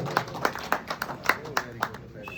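Scattered hand claps from a small group of workers at a company Diwali meeting in Jalandhar, roughly six sharp claps spaced about a quarter second apart, close and moderately loud, with faint background voices.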